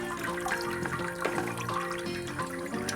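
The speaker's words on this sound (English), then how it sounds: "Just let all that water pour out of there." Hot water from a shrimp boil pot pours out in a steady, gushing flow with gurgles and splashes, close and continuous throughout, with no talking.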